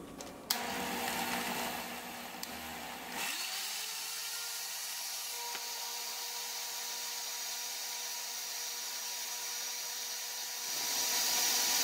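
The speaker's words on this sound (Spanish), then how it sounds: "Ahora voy a tapar y voy a llevar a licuar." A kitchen blender whirs steadily at close range as it purées lime-cured shrimp for aguachile. A brief clatter comes first, then a loud, continuous motor drone.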